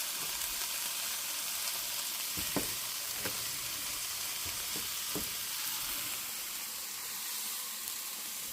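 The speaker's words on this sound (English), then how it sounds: "I added the onion, and I tasted a little bit of the juice" Onions sizzle and fry as they are stirred into a pot of soul food black-eyed peas with ham, with a steady hiss and a few spoon knocks against the pot, no voices.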